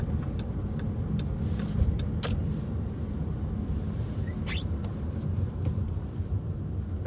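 Turn signal indicator of a Volkswagen Caddy Exclusive ticking inside the cabin, steady faint clicks set against a constant rumble of engine and road noise, with no talk.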